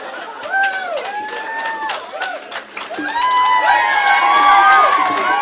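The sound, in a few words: audience cheering and clapping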